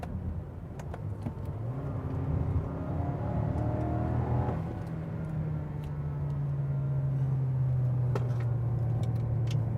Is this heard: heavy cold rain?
no